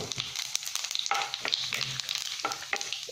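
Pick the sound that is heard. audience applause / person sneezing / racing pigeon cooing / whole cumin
whole cumin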